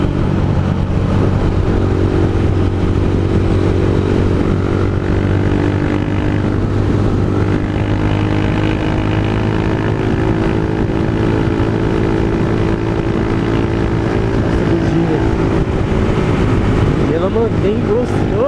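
Honda Fan 160 motorcycle with an Escape GP Competition exhaust and Scalla quickshifter riding in a motorcycle convoy, a loud, continuous engine drone with steady harmonics that runs throughout, close and unbroken.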